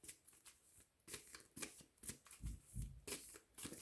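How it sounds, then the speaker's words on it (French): Tarot cards being handled and squared into alignment, a quiet run of soft papery shuffles and taps in uneven bursts, close and alone with no talk. "je faisais juste aligner les cartes"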